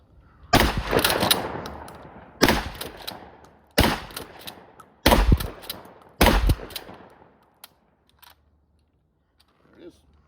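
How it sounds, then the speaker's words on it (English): A JC Higgins Model 20 shotgun fitted with a compensator fires about five loud, close booms at irregular intervals, each blast ringing out and fading before the next, then a quiet tail. "All right, and now the compensated gun."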